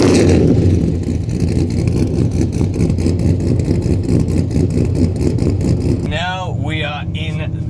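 A rear-wheel-drive Holden Statesman with LS V8 power idles with a deep, lumpy burble and revs in repeated pulses, loud and close, before a voice starts talking over the lower engine rumble.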